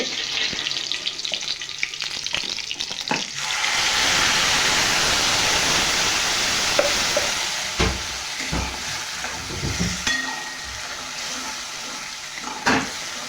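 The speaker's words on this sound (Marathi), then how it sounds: "मसाला छान परतून घ्यायचा आहे तेल सुटेपर्यंत" Ground spice masala with cumin seeds fries in hot oil, a loud, steady, broadband sizzle that swells after a few seconds and carries on with occasional clinks and scrapes of a stirring spoon.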